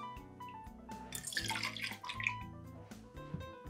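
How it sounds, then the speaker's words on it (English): Tequila pours into a shaker tin with a burbling, splashy trickle lasting a few seconds. It is close and moderately loud, set over a soft background of music. "We're going to add to our shaker tin 2 ounces of our tequila that we made."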